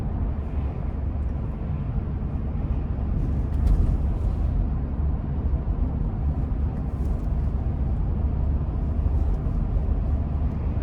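Inside a 2018 Chevy Tahoe LT with about 110,000 miles as it drives down the road, a steady low engine and road rumble with tyre hum carries on without a break.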